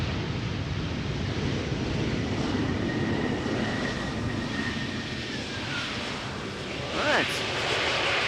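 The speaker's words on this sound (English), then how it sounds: "Flight 1918, this was Embraer 190 arriving from Gdansk in Poland." An Embraer 190 arriving at Amsterdam Schiphol from Gdansk, a steady mid-distance jet engine rumble with a faint whine that fades slightly, then a brief rise near the end, with wind-like noise underneath.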